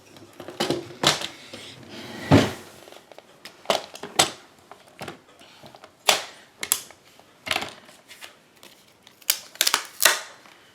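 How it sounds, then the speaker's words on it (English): Cardstock being trimmed for a stamped card, a series of sharp clicking, slicing strokes in uneven bursts, close and alone with no talk. "Let me cut this down a little bit."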